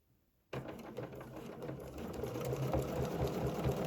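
A sewing machine starts abruptly and stitches a placemat design with a ruler guide, its fast mechanical whir building slightly in loudness and holding steady, close and alone.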